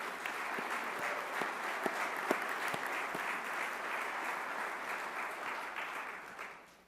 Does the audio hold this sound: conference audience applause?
yes